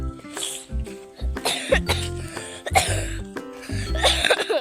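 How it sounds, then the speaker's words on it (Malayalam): Someone coughs repeatedly in harsh, close bursts, a string of hacking coughs spread across the moment with brief pauses between them. "ചുമ ഇതുവരെ ചുമ നിന്നിട്ടില്ല എനിക്ക്"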